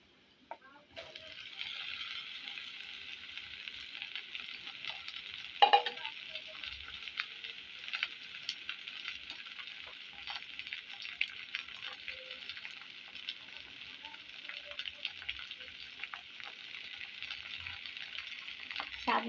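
Okra sliced into a pan with browned onions sets off a steady, bright sizzle that holds evenly throughout, with a few stirring clatters and light scrapes, close and moderately loud, no talking.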